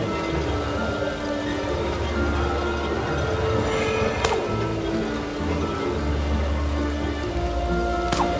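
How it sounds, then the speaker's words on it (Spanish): Light rain falls steadily in the fantasy platformer Trine 4, a dense, even patter with occasional drips, while a low ambient drone hums beneath it throughout. "Una ligera lluvia no nos molesta."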